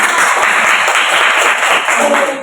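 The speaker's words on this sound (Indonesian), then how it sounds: "Kasih tepuk tangan buat kita" Classroom audience applauding at the close of an elementary science lesson on heat transfer, a steady dense patter of clapping that fills the whole stretch and fades slightly at the end.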